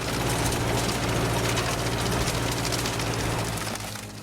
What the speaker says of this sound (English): The power from the tractor engine ensures all tasks are performed smoothly.